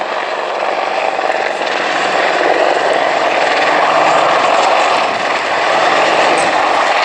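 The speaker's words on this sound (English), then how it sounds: "Gunship 1 is now flying a turning quick-stop manoeuvre to approach the hover to your right" An Apache attack helicopter at an airfield air display flies a turning quick-stop into a hover, its loud, dense rotor and turbine roar filling the air continuously with a slight dip and swell as it maneuvers.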